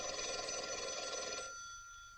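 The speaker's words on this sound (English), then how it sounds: "Your phone's ringing." An old-fashioned telephone bell rings in a bright, sustained metallic trill for about a second and a half, then stops abruptly, leaving a quiet room tone.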